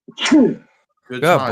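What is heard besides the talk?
sneeze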